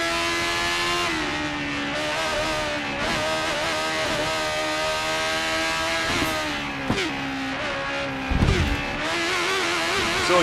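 F1 race car engine from F1 2013 in cockpit view, a loud sustained high-pitched whine climbing in pitch with several sharp drops at gear shifts, running continuously without talk.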